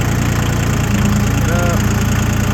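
A Yanmar YM2010D compact diesel tractor runs steadily as its loader bucket is raised and tilted. The loud, close engine drone is constant, with a brief whine partway through.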